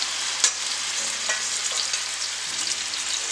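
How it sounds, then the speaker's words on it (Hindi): Marinated chicken sizzles steadily in hot olive oil with roasted white sesame seeds, a constant bright frying hiss broken by a few sharp pops and the clink of a utensil, with no one speaking. "अब हम ये चिकन जो मैरिनेट किया इसको हम डाल दें पकाने के लिए।"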